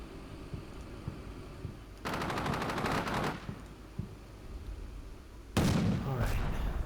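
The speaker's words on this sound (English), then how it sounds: "Receiving quite a lot of return fire here" Gunfire in the tank combat game Combat Mission: Shock Force 2: a dense burst of automatic weapons fire crackles for over a second, then a second heavier loud volley erupts near the end over a low rumbling background.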